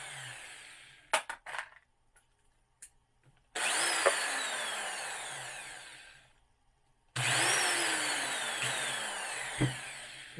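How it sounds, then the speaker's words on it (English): Case trimmer cutting 5.7x28 brass pistol cartridge cases, two sustained whirring, scraping cuts of about three seconds each with a few short clicks and taps before them, close and moderately loud, no talking. "the cutter turns nice and straight, or cutter trimmer"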